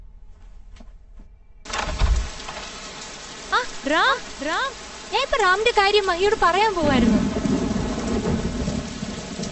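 Steady heavy rain hisses throughout, with a low rumble like thunder, while a person speaks over it in the middle.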